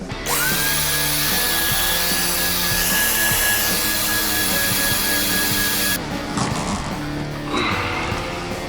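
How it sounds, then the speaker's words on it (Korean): A vacuum cleaner sucks fire extinguisher powder out of an air conditioner, a loud continuous whining roar with a high steady tone that cuts off near the end, followed by clattering and handling noises. "그러면 일단 청소기 줄게. 한번 분말가루 빼자. 오케이 튼다."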